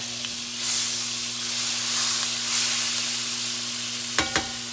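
Oil sizzles steadily in a hot greased frying pan with a constant hiss, a low electrical hum beneath, and two quick clinks near the end.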